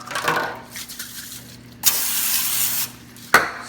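Pam cooking spray hissing into a pan: one steady aerosol burst lasting about a second, close and clear, preceded by small handling clicks and followed by a sharp click at the end.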